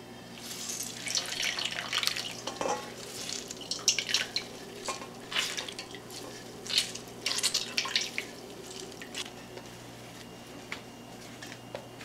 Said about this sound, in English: We squeezed out all of the vinegar from the towel